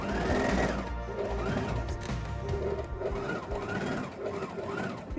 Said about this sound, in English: here I'm hemming the skirt with about ½ inch seam allowance